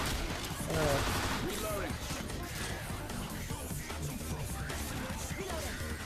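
Scattered bursts of game gunfire crackle amid a busy, noisy mix, with excited voices talking over the shooting.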